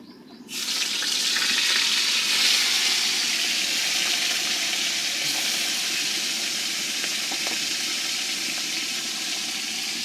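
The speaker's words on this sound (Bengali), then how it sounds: "এখন মাছটা আমি দিয়ে দিব মাছটা ভেজে নিব" Loud, steady sizzling of hilsa fish frying in hot oil, starting abruptly and hissing continuously without any talking.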